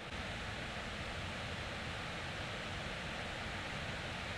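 River rapids near Bond Falls, Michigan rush in a constant, broadband roar that is faint and distant, with no voices.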